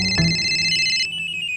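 A telephone rings in a domestic comedy scene, a steady electronic ringtone tone sustained for about a second before shifting pitch, heard alone and moderately loud.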